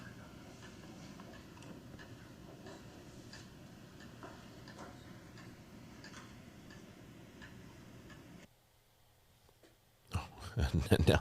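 A train passes at a distance, a steady low rumble with faint rhythmic clacking under a ticking sound, fading out before a loud burst of noise at the end.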